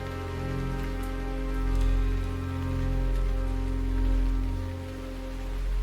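Rain falls steadily in the video game Teardown as a continuous hiss of drops on surfaces, rising and easing in slow waves over a constant low tonal drone, with no voices.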